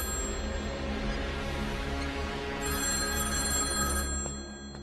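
A telephone rings with a steady repeated bell tone, moderately close and alone, fading near the end.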